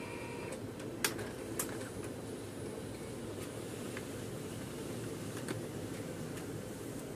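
A Canon imageCLASS MF3010 laser printer being tested after a paper pickup repair gives a faint, steady mechanical hum of feeding paper, broken by a few sharp clicks near the start.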